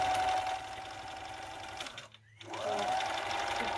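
Electric sewing machine stitching fabric bunting pieces onto string, a steady close whirring run that stops briefly for about half a second, then starts up again and keeps running.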